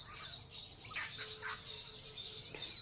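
Native country chickens give a few soft clucks and short calls at a moderate distance, scattered over a quiet background hiss.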